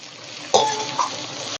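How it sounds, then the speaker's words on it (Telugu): Onions and mint frying in oil in a pan, a steady sizzle joined by a brief clatter partway through, close and moderately loud, with no talking. "ఉల్లిపాయలు వేగుతున్నప్పుడే పుదీనా కూడా వేసేయాలి"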